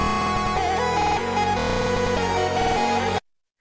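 A dense electronic music loop is chopped by a rhythmic gating and stutter effect from a complex volume and time preset in FL Studio. It plays loudly for about three seconds, then cuts to silence.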